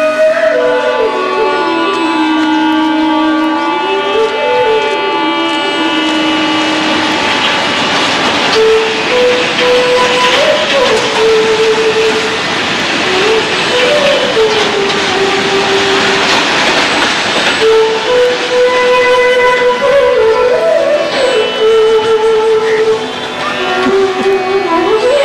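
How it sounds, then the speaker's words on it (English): A train pulls into Lalitpur station with a steady rumble, long sustained tones rising and falling over the noise, continuous and fairly loud throughout. "our train pulls into Lalitpur station"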